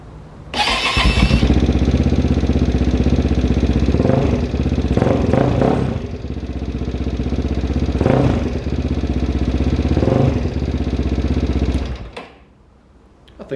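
A Megelli 250r motorcycle with a cold-start fault fires up with a sharp burst and then settles into a close, steady idle with a few blips of throttle, running loudly for about eleven seconds before cutting off.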